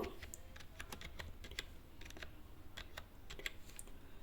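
Arduino code keyed in on a computer keyboard: a brisk, continuous run of light, close key clicks with a few louder taps.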